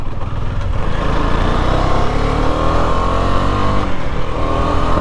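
Husqvarna Svartpilen 250 single-cylinder motorcycle engine pulling hard under acceleration while riding, a loud steady drone climbing in pitch, with no talk over it.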